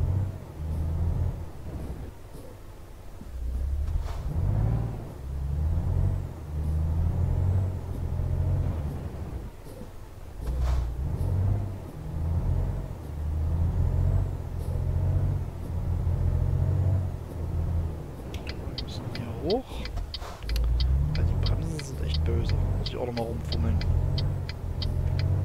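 A heavy truck rumbles along in Euro Truck Simulator 2, its low engine drone steady with slight swells, running under someone talking for most of the stretch.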